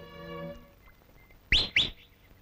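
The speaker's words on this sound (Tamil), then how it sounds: "காலங்காத்தால விசில் அடிச்சுட்டு." Two short, sharp rising whistles from a person come in quick succession after a quiet stretch with a faint background tone.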